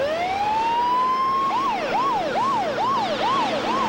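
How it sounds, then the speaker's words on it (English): An ambulance siren rises in a long steady wail, then switches to a fast, repeating up-and-down yelp. It is loud and close, alone with no voices. "They had to keep Bert alive until the ambulance showed up"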